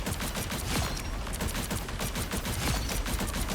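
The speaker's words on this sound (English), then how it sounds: "now your right click turns into this Gatling gun" Scarlet Witch's projectile Gatling gun fires in a video game: a loud, unbroken stream of rapid shots that runs through the whole stretch with no pause and no voices.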